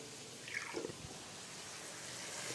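Water is poured into a cooking pot of achari chole, spiced chickpeas, making a faint, brief splash and trickle that sits under a steady background hiss.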